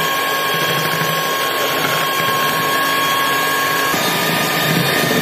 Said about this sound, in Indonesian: Lalu lanjut kita mixer kembali sampai dia mengembang